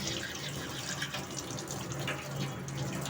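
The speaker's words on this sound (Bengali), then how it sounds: "আর এখন আমি আমটা ভালো করে ধুয়ে নেব।" Tap water runs steadily into a sink while a mango is washed by hand, a continuous splashing stream with faint clatter, close by and without speech.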